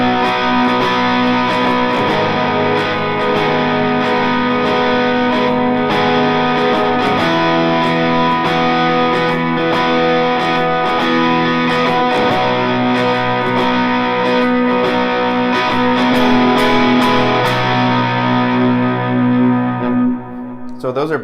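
Electric guitar through a Helix plays a run of worship-song chorus chords with distortion, echo and chorus shimmer, strummed steadily and loud for about twenty seconds before cutting off.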